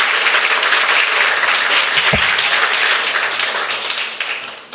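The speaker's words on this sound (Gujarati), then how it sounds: "આપણે ફરીથી એમને તાળીઓથી વધાવીએ" An audience at a Teachers Day celebration at a school for the blind in Bhavnagar breaks into loud, sustained applause, a dense wash of many clapping hands that eases slightly toward the end.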